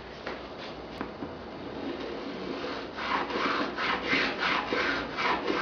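A Veritas spokeshave shaves walnut edge banding flush, making a series of close, rhythmic rasping cuts that start faint and then grow firmer and more regular.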